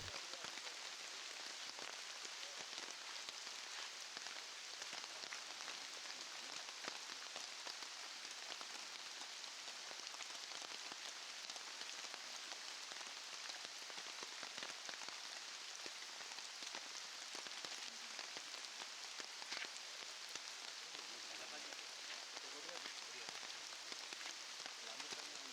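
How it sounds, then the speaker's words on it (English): Heavy rain falls steadily and continuously, a dense even hiss across the whole stretch, during a mission by officers treating an elephant with an abscess. "a heavy rain added another degree of difficulty to their mission"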